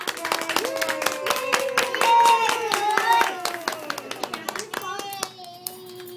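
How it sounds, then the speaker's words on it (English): An audience claps for a young child at a children's award ceremony, a brisk run of many hands swelling and then thinning to scattered claps, while voices talk over it. "Let's give her a round of applause."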